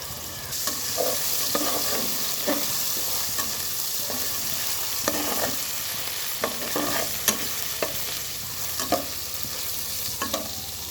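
Whole spices crackle in hot oil as a tempering for dal, a continuous sizzle broken by repeated spoon scrapes and stirring knocks against the pan, close and fairly loud with no voices.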